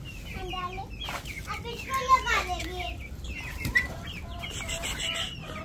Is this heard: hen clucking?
yes